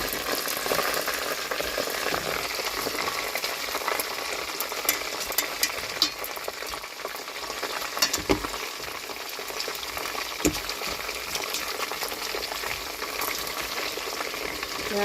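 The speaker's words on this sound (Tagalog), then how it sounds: "Agad ang prito ko mga idol." Chicken pieces frying in hot oil in a pan, giving a steady, dense sizzle and crackle with a few sharper pops throughout, close and continuous with no talk.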